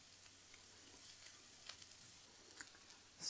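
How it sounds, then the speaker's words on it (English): Sliced garlic sizzles in a pan with onions, a steady close hiss of frying with faint stirring ticks throughout and no talking. "So I'm going to add the sliced garlic into this"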